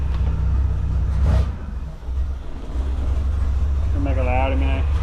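A 1978 Reliant Scimitar SE6a engine idling after a carburettor spring adjustment, a loud steady low rumble that dips briefly, with someone talking over it.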